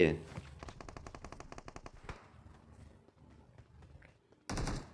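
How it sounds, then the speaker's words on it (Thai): Rapid bursts of automatic gunfire in PUBG Mobile, a long rattling volley followed by scattered shots, with a loud clattering burst at the end. "เสียงปืนข้างหน้าวะ"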